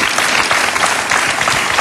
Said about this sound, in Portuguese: deixamos com uma salva de palmas